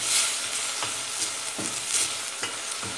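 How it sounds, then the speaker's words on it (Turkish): Onions sizzle in oil with a teaspoon of salt, a steady frying hiss broken by soft scrapes of stirring at a close distance. "Öncelikle soğanımızı bir miktar yağda, şöyle bir çay kaşığı da tuz atıyorum,"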